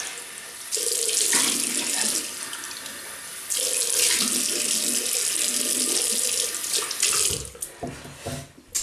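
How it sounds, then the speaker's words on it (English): Tap water runs steadily into a sink for a rinse after wet shaving, a loud continuous splashing rush with brief shifts as hands move under the stream, then it cuts to a few drips and handling sounds near the end. "Right, rinse off again."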